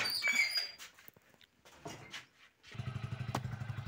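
A motorcycle, started with the key, is first quiet among scattered clicks and squeaks, then settles into a close, steady idle with a regular low putter over the last second.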